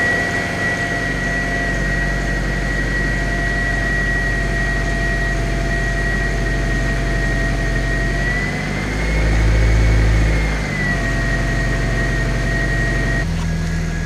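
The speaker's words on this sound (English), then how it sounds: "The idle is slowly coming down now." A car engine idles steadily after its coolant has been bled, a constant mid-pitched hum with a faint whine and a brief swell in the middle before settling again.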